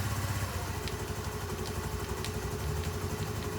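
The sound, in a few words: Honda Navi scooter engine idling roughly after cold start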